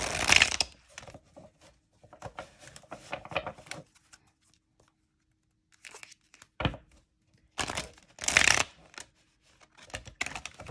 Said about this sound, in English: Now, let's shuffle.